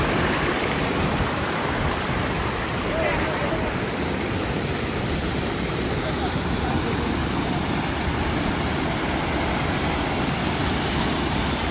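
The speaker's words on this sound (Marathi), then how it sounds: "जो पडतो धबधबा तो देखील आकर्षक वाटतो." A waterfall at Malgund in the Konkan, flowing low for lack of rain, gives a steady, even rush of falling water, constant and moderately loud, with no break across the whole stretch.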